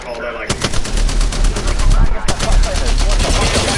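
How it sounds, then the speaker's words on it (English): Rapid bursts of automatic gunfire in the video game Apex Legends, loud and sustained, with dense repeated shots and overlapping weapon fire throughout. "Somebody's shooting at me."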